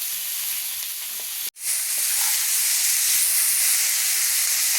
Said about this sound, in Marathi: मोठ्या गॅसवर आपल्याला हे छान आता परतून घ्यायचं एकत्र